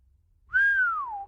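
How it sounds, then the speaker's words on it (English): A person gives a single clear whistle, one sustained tone that slides slightly downward over about a second, close and alone against near silence. "Francis whistled."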